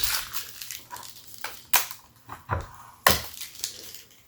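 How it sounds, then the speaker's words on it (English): Protective plastic film is peeled off a new electronic device, producing close crinkly crackles and sharp tearing bursts at irregular intervals with no speech. "It says peel here, power switch, and I'm peeling this off."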